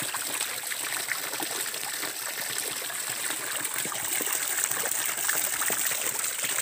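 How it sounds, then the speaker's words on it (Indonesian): Water pours steadily from a garden spout into a pool, a continuous splashing trickle that stays close and even throughout, with no talking over it. "Inilah air pancuran saya."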